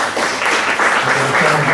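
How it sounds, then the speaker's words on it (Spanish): Audience applause for a book's cover artist at a book presentation, a dense, steady wash of clapping that holds for the whole stretch with a faint voice underneath. "nuestro portadista, Orcas Sasa, un aplauso por favor."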